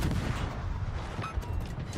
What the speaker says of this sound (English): Hey, look, torpedo hits.